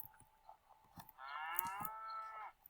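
A cow moos once on a farm while animals are being herded, a long rising low moo of over a second, with brief faint noises and soft steps before it.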